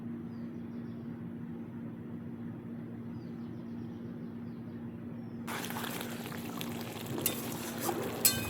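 Katla fish curry with brinjal simmering in a pot, giving a steady, soft bubbling hiss that grows brighter and louder partway through, with a few light knocks near the end.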